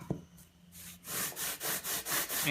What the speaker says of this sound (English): You sand in one direction, then in the other direction